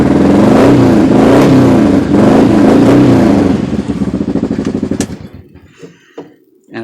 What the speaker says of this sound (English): Just watch this throttle. Just barely breathe on that sucker.